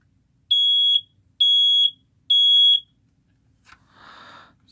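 A First Alert SA67B smoke detector sounds three loud, evenly spaced piercing beeps, each about half a second long, close to the microphone, followed by a short rustling noise.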